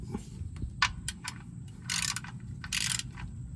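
Ratchet tightening the oil drain plug on a 2022 Toyota Tacoma V6 during an oil change, with rapid clicking pawl bursts and short ratcheting strokes, close up over a low background rumble, no talking.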